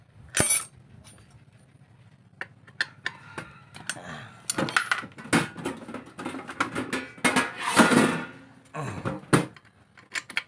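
An 8mm T-wrench tightens a nut on a washing machine spin motor, producing close, irregular metallic clicks, taps and rattles that grow busier midway.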